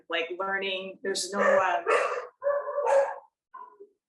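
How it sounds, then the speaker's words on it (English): Dogs bark and yip in short, loud bursts close by, mixed with a person talking indoors. "sorry about the dogs."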